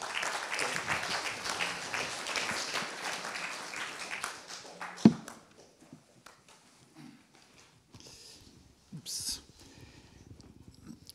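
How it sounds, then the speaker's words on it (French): Audience applause at a colloquium on the government of judges, a steady round of clapping that fades out after about five seconds, leaving a quiet room with scattered small noises. "Je vous demande de l'applaudir."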